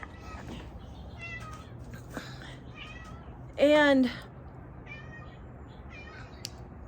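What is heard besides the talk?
cat meowing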